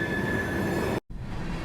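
A freight train rolls past in Central Florida with a steady rumble and a thin, sustained wheel squeal. The recording cuts out abruptly for a moment partway through, then the rolling noise resumes.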